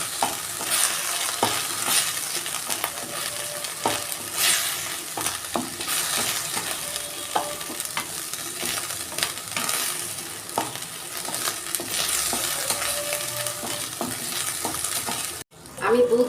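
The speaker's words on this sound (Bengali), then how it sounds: "ঘি মেখে চালগুলো আমি একটু ভেজে নিচ্ছি।" Rice grains frying lightly in ghee for Bengali payesh, a steady close sizzle with frequent stirring scrapes and occasional utensil clinks, continuing throughout with no talk.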